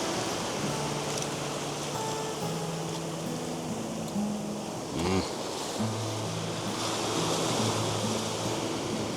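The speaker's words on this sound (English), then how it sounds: "the waves and the ocean just seems to go calm" Ocean waves along a coast where a photographer is working, a continuous loud wash of surf with some wind noise running throughout, and a brief knock partway through.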